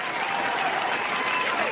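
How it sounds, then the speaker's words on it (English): Steady, dense applause from an audience, a continuous wash of clapping that holds evenly throughout with no voices over it. "Give yourselves a great big round of applause."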